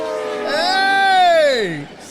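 A train horn sound effect plays as a livestream alert for a hype train: one sustained, loud harmonic blast whose pitch swells and then slides downward before it cuts off.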